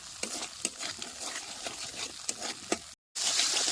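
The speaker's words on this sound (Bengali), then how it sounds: "এবারে বাটিয়ে রাখা কাজু বাদামটা দিয়ে দেবো আবার একটু ভালো মতো কষায় নেব মশলাটা" Masala frying in oil with cashew paste for a vegetarian cauliflower kalia, stirred in a pan, giving repeated scraping strokes over a soft continuous sizzle, then a brief gap and a louder, steadier hiss.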